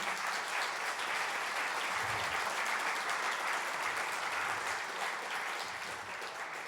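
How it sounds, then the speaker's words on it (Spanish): A men's church conference congregation claps for the Lord, a continuous wash of many hands, fairly distant and moderate in level, holding steady throughout with little change. "Dale un fuerte aplauso al Señor."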